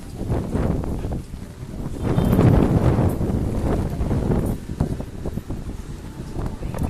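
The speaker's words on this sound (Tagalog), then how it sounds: "Ganyan kalakas ang hangin dito." Strong wind during a rainstorm buffets the microphone with a heavy, rumbling roar that gusts louder midway, continuous and close, with no clear talk.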